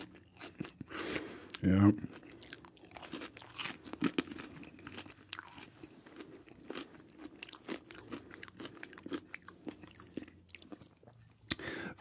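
Crunchy bites into extra crispy snacks such as pizza rolls, bagel bites and French fries, sharp irregular crunches and chewing up close, with a brief spoken word early on.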